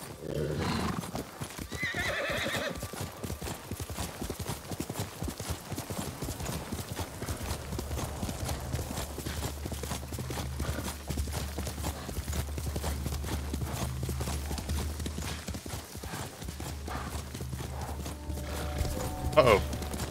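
A horse gallops in Ghost of Tsushima Director's Cut on PS5. Its hoofbeats clip-clop steadily and closely for most of the stretch, a neigh rises early on, and game sounds and a faint voice run underneath.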